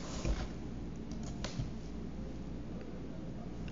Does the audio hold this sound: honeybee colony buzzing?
no